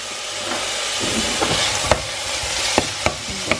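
Onion dropped into a hot pan for kimchi soup, a steady hiss and sizzle with several sharp clacks of stirring, close and fairly loud, no talking.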